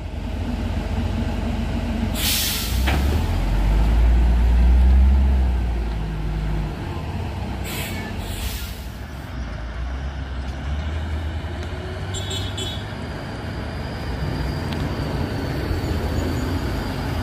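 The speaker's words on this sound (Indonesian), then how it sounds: "Ya teman-teman, banyak truk nanjak." Heavy trucks grinding up the steep Bukit Kodok hill road, where spilled CPO palm oil coats the surface; a steady, close rumble of low engine and road noise runs throughout, with brief hiss and squeal bursts.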